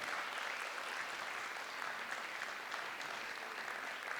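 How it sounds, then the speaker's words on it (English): An audience at a school arts recognition ceremony applauds in a steady, even wash of many hands clapping, continuous from start to end and fairly distant, with no voices over it. "let's give them all a big round of applause"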